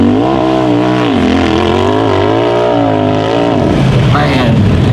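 A UTV in a pro rock-crawling race runs its engine at steady high revs with the wheels spinning, giving a loud, close droning roar that drops off abruptly near the end.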